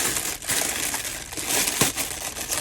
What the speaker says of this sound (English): It's bubble wrapped, and then it's in like a plastic bag, which is super loud.